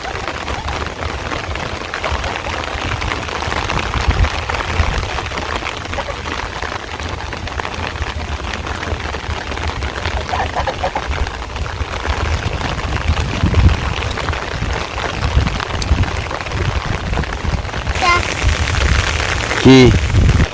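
Steady rain falls on a village in Bangladesh during the rainy season, a dense, continuous hiss with some low rumbling that may be thunder, and a few small clinks near the end.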